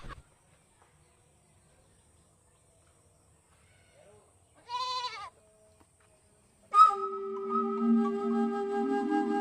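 A lone goat gives one short, clear bleat in an otherwise quiet yard, followed moments later by a louder, sustained tonal noise that carries on to the end.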